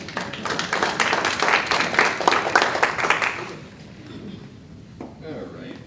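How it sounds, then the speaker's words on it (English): A Tea Party gathering audience breaks into steady applause, many hands clapping together for a few seconds before it dies away into quiet room noise. "we might have a little applause for that"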